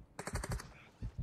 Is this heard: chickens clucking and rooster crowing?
no